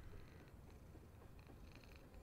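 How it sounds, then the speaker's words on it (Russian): Cat purring in a horror game set in the summer of 1958: a low, continuous rumbling purr, very faint and steady, almost buried in background hiss. "Кошка такая... Урчит."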